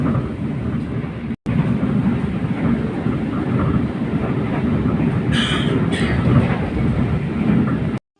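Loud, steady rumble of the KA Tegal Bahari passenger train in motion in Indonesia, a continuous low roar with a brief cut and faint rattling.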